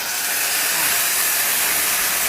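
Half a cup of water is poured into hot melted sugar syrup, setting off a loud, continuous hiss of steam and spitting close up that stays strong throughout.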